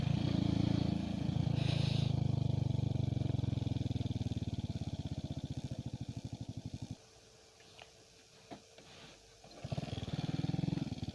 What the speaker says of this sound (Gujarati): આપણે આ બાઇક પર આપણી બાઇક પર સ્ટન કરી જોઈએ છે